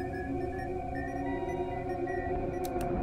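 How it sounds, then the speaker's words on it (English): A sensor alarm in the horror game Chordosis sounds as a sustained electronic hum of layered steady tones with a sonar-like ring, joined near the end by two brief bright bursts. "The sensors are going off."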